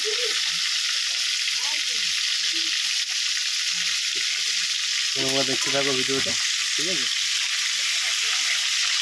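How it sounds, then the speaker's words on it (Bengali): Steady, loud sizzling of crab pieces frying in hot oil, with someone talking intermittently over the crackle. "আগে এইগুলো ভেজে নিই, তারপরে দাঁড়া দাঁড়া আছে দেখো, এই যে এগুলো ভাজতে হবে।"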